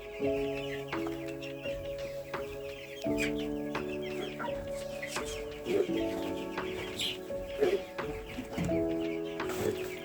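Four-week-old broiler chicks cluck and peep steadily inside their coop, a close, busy chorus of overlapping calls with a few sharper squawks.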